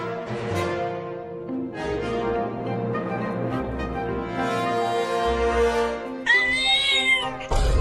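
A cartoon kitten meowing, a run of high, tuneful mewing calls in quick succession, loud and close, ending in a sharper, brighter cry.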